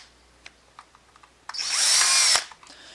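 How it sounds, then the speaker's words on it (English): Power screw gun backing two screws out of a Traxxas Rustler RC car: a few light clicks and taps, then a close, loud whirring burst of about a second that stops abruptly. "I'm going to take my screw gun right here and just pop out"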